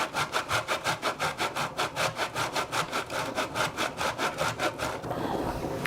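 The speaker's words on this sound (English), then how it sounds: "Gonna grate that on the fine side of the grater." A block of Parmesan cheese rubbed across the fine side of a kitchen grater, with steady rhythmic rasping strokes about four per second, close and loud, stopping near the end.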